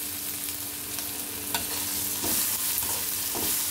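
Ground cumin and coriander powder sizzle in hot oil while a utensil stirs and scrapes the pan, producing a soft, continuous frying hiss with occasional clinks and no voices.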